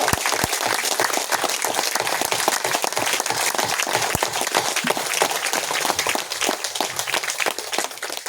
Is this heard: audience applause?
yes